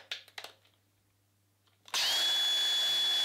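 Makita XRF92 cordless screwdriver fitted with a collated autofeed push-drive magazine, a few light clicks and handling taps, then the motor spins up into a loud, steady high whine held close and alone to the end.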